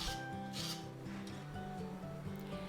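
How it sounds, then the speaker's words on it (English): A spoon scrapes and scoops the flesh out of a zucchini, giving soft, faint rasping strokes repeated at an even pace against steady background music, with no talking. "I'm gonna show you in a minute how you can scoop with a spoon, and scraping down is also optional"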